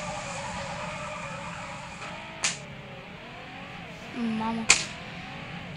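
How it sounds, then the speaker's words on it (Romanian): A JDM drift car engine revving, heard as a steady mid-distance engine drone that rises and falls, with two sharp bursts and a voice speaking briefly. "Și bine se aude mașina asta"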